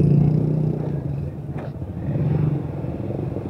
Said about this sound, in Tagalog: nagpapasok yung tricycle